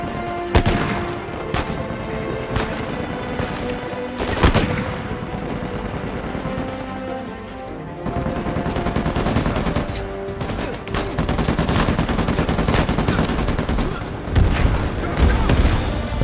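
Rapid gunfire bursts and sharp booms from the third-person action game Uncharted 4, loud and continuous over a game soundtrack with occasional heavier blasts, sustained across the whole stretch.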